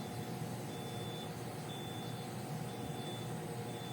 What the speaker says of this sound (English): the beep is just trying to tune the output impedance to match the load